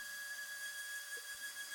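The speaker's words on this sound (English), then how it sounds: "But first we got to sand the base." A steady high whine and hiss of a power sander running continuously on a wooden table base at moderate volume, with no voices.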